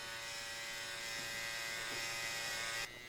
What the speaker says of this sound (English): pointing the clipper down, and just touching what needs to be touched over here where the straggles are sticking out